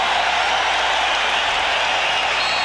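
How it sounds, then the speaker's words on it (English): A capacity crowd at Chicago Stadium during the 1992 Knicks–Bulls Eastern Conference semifinal game 7 roars in a loud, unbroken wash of cheering and applause with no break. "This capacity crowd at Chicago Stadium looking to pump up the home team."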